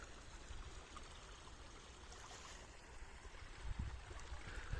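Spring water flows constantly from underground with a soft, steady gurgling trickle that stays faint and continuous, with a slightly louder splash near the end.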